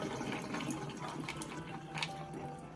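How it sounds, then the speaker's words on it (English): Water poured off soaked hominy into a sink while cooking pozole verde, a faint continuous splashing trickle with small bursts, no talk. "I'm going to pour off the water that we soaked it in."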